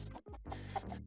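Farm chickens on a fresh patch of grass cluck in a few short, close, quiet bursts, with brief gaps between calls.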